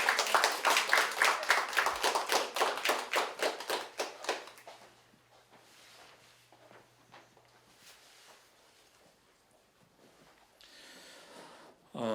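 Middle-school students at a youth debate event clap in rhythmic, loud unison beats for about five seconds, then the sound thins to scattered faint claps and room noise before a brief rustle at the end.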